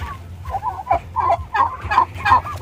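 A giant four-to-five-month-old turkey gives a run of repeated gobbling, clucking calls, close and fairly loud, in short bursts with brief pauses between them.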